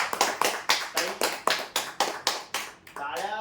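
An audience at a prize draw event claps in a crisp, evenly spaced rhythm of about ten sharp claps, then a voice starts speaking at the end.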